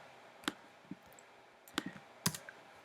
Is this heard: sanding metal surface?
no